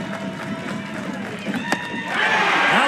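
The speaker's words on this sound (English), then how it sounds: "Tennessee crowd starts to get a little louder" Tennessee fans at an NCAA softball Super Regional game, a broad crowd roar building louder toward the end with whoops, under a commentator's voice.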